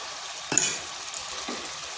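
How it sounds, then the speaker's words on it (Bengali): Chicken and freshly chopped tomato sizzle and fry in a pan while being stirred, with a sharp burst as the tomato goes in and light scraping and clinks of the spoon against the pan. "মাংসটা এভাবে ভালো করে কষিয়ে নিতে হবে দিয়ে দিচ্ছি কেটে রাখা টমেটো"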